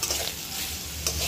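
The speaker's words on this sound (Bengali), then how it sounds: "আমি আলুটাকে সুন্দরভাবে কষিয়ে নিই" Potatoes sautéing in oil for a brinjal and potato curry, a close, steady sizzle with a spoon stirring through the pan and brief scraping accents, no talk.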